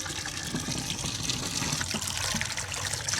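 Water from a tubewell pours steadily into a bucket outdoors at dusk, a continuous loud splashing gush that fills the whole clip with no talk.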